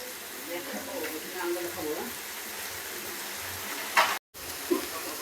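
Onions for an egg dish frying in a pan, a continuous close sizzle with soft stirring scrapes and a voice briefly in the background, then a sharp clatter near the end.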